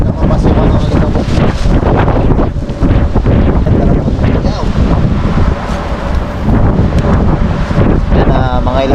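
Strong wind buffets the microphone on top of a bridge throughout, a constant loud rumbling roar with gusty fluctuations and some background voices mixed in.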